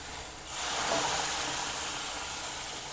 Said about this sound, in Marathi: आता आपण हे उकळी आलेलं पाणी टाकणार आहोत